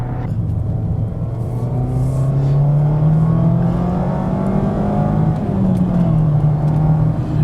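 A 2025 Mazda Miata Grand Touring hard-top driven fast on West Virginia backroads, its engine droning steadily from inside the cabin with rising and falling pitch as it accelerates, plus road and wind noise.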